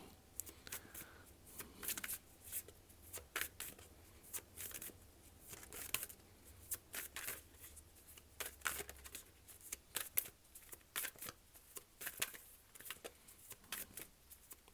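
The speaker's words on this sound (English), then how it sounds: "while I may be shuffling the cards" Repeated crisp riffling bursts of cards being shuffled, close up, in irregular rhythm with short pauses between shuffles and no talking.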